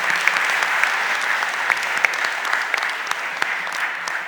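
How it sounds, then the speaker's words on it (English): A city council budget hearing audience applauds students, a steady wash of clapping from many hands in a large room. The applause holds evenly throughout with no break. "let's give a round of applause to the students from Carver as well."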